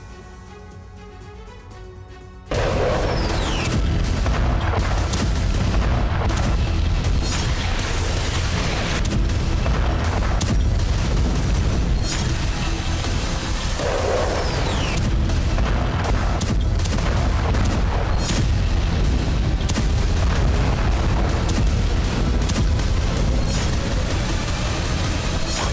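Explosions in Gaza in news footage: after a brief quieter opening, dense rolling booms and blasts sound continuously and loudly, with sharp bursts breaking through a constant low rumble.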